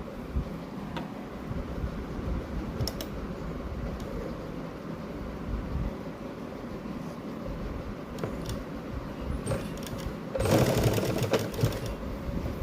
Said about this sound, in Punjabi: ਪਹਿਲਾਂ ਵਾਲੀ ਸਲਾਈ ਦੇ ਉੱਪਰ ਹੀ ਸਲਾਈ ਲਾਵਾਂਗੇ